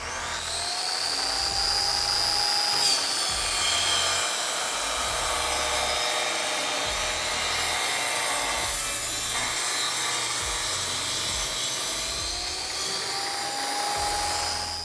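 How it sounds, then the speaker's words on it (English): A panel saw making a rip cut down the center of a 4x8 sheet of plywood, a loud sustained whining buzz of the blade through wood, continuous for about fifteen seconds with slight shifts in pitch. "we're going to actually be able to make this rip cut now with my panel saw"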